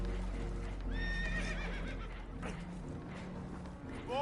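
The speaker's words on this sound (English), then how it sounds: "Horses are spooked, and we're taking on water." Horses neigh and whinny in Red Dead Redemption 2, a few rising, quavering calls over a steady low rumble of water and hooves, fairly quiet and heard alone without talk.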